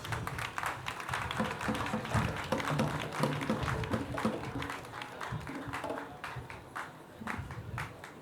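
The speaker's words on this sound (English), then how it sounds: "Let's clap." Applause from the audience at an Accra Technical University graduation congregation, a sustained round of clapping that rises and then tapers off with a few scattered claps.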